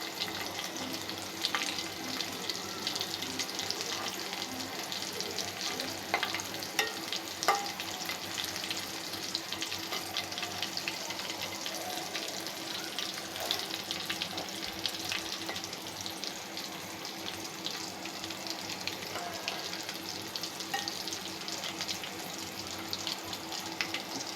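A vegetable-filled snack frying in oil over low heat sizzles steadily and softly for the whole stretch, with a continuous close crackle and faint watery hiss and no talking.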